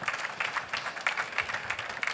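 An audience at a trade fair presentation claps in a steady, moderately loud burst of applause that continues throughout, with no talk over it.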